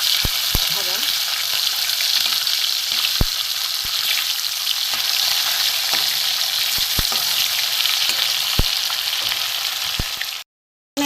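Hilsa fish pieces fry steadily in hot mustard oil, a dense continuous sizzle with occasional sharp pops and utensil clicks, close and loud throughout before cutting off near the end.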